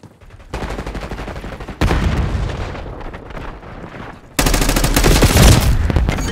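Heavy gunfire in Call of Duty Black Ops 6 multiplayer, on the Payback Kill Order map set in Bulgaria: dense, continuous automatic bursts and booming shots that grow louder in stages, ending in a loud, sustained barrage.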